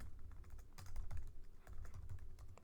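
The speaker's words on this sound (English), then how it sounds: "So I'm going to type numbers file" Steady typing on a computer keyboard, close and fairly quiet, keys clicking in quick irregular runs with brief pauses.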